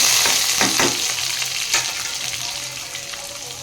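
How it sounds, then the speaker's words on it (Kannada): Ridge gourd and chana dal frying in a pan over high gas for ridge gourd palya, a loud continuous sizzle with quick stirring scrapes early on, close up and no voices. "ಚೆನ್ನಾಗಿ ಫ್ರೈ ಮಾಡ್ಕೋಬೇಕು. ಗ್ಯಾಸ್ ಸ್ವಲ್ಪ ಜೋರು ಮಾಡಿಕೊಂಡು ಫ್ರೈ ಮಾಡ್ಕೊಳ್ಳೋಣ."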